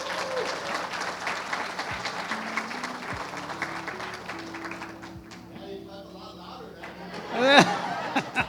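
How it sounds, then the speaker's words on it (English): Applause from an audience at a school district employee service awards ceremony, a steady patter of clapping over several seconds with a few voices and laughter mixed in, fading toward the end as someone starts speaking. "All right, we'll just clap a little, you know."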